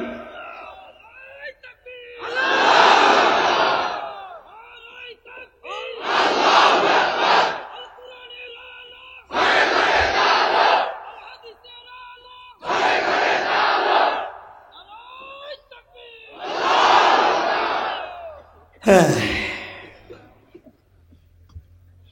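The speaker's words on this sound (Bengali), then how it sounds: "জোরে মারো, জোরে তাকবীর" A gathered crowd roars the takbir, Allahu Akbar, in six loud, evenly spaced collective shouts, each swelling and fading, with brief quiet gaps between them.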